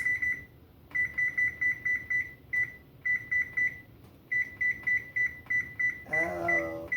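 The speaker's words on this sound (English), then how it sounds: "Put my timer on." Rapid bursts of electronic beeps from a kitchen timer being set while a dish goes into the oven, the groups of short tones repeating again and again over a quiet background, with a louder rustling handling sound near the end.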